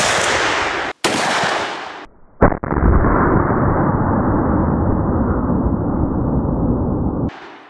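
.458 Winchester Magnum rifle firing at a range, a loud blast followed by a long rolling boom and a second sharp report, ringing close and heavy.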